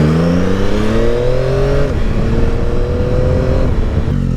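A 2025 Yamaha Tracer 9 GT+ motorcycle engine revs up loudly through rising gears, drops briefly at a shift, then pulls again with a deep, steady roar close by.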